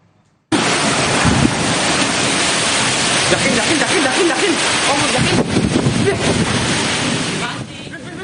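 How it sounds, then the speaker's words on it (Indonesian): Heavy rain and strong wind lash a village in Brebes, Central Java, as a loud, dense, continuous roar of rushing wind and pouring water. It starts abruptly and holds steady for several seconds. "Hujan disertai angin kencang ini sempat membuat panik warga desa"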